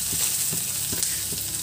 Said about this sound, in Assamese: এতিয়া পিঁয়াজখিনি তেলত দি দি আছোঁ